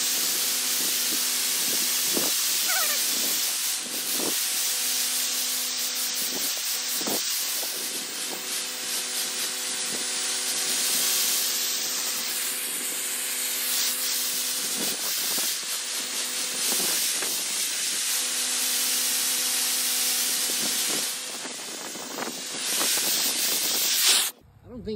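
A sprayer applies Ox-Knox cleaner to vinyl siding at 70 PSI, producing a continuous, close hiss of spray that shifts slightly as the nozzle moves, with a few faint knocks, ending abruptly.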